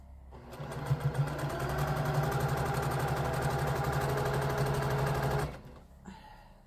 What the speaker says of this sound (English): So I'm just sewing along.